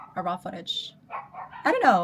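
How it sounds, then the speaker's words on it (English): A dog barks outdoors in short, loud yips and barks that rise at the end, heard beneath a person talking nearby. "Sorry about the dog noise. It's freaking loud outside."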